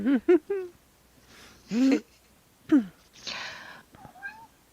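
A cat meows for food in a quiet room: several short, close meows come in an uneven series, with a drawn-out breathy one in the middle and soft faint sounds between them.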